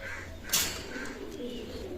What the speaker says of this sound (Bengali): এখানে এক জোড়া রানিং পেয়ার কবুতর আছে